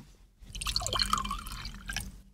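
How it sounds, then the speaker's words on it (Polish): Someone drinks water close by, with wet dripping and gulping, liquid sounds and a glassy clink over a low background hum. "Niektórzy, jak słychać, jeszcze muszą pić wodę."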